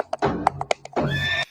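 A horse at a Pride event gives one close, loud whinny: a few short snorts and knocks lead into a bright, quavering neigh that holds for about half a second before cutting off.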